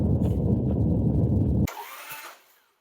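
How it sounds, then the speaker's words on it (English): A Harley Sportster engine with its spark plugs removed is kicked over, a loud rapid chugging churn that cuts off abruptly, followed by a faint mechanical rattle and quiet settling noises. "going to take those spark plugs out and kick it over"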